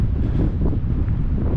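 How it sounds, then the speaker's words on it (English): Strong wind buffeting an exposed spot on open ground, a steady low roar of gusts rumbling across the microphone without pause. "I don't know if you can hear it, but that wind is blowing."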